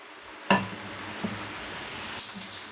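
Cooking oil heating in a pan on the stove while preparing a Tamil sirukeerai masiyal, a spinach mash. A steady soft sizzle and hiss carries throughout, punctuated by a sharp clack at the start and light clatter near the end.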